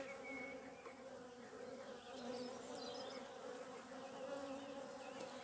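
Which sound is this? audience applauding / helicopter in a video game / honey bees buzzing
honey bees buzzing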